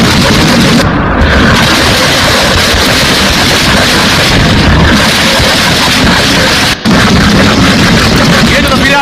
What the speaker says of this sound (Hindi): ईरान ने इजराइल पर एक के बाद एक कई बम दाग दिए।